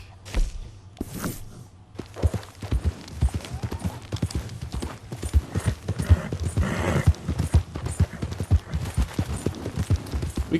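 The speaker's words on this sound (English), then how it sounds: "We're gonna head to the stable now to try and get our horses settled, like Buell." Horse hooves clip-clop steadily in Red Dead Redemption 2, a close, brisk and irregular stream of hoof strikes after a couple of early thumps, with no talking over it.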